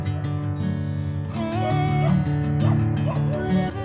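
A dog yips, barks and whimpers in a backyard in a sunny dry season, short excited calls repeating over a steady tonal background, fairly close.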